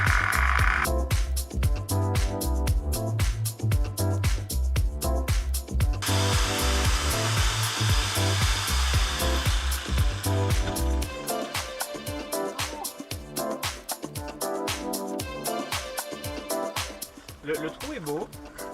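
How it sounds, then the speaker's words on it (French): A jigsaw saws a window opening through the metal side panel of a van under conversion, its motor buzzing loud and steady with rapid blade chatter that runs almost unbroken throughout. "pour pouvoir glisser la superbe lame de la superbe scie sauteuse"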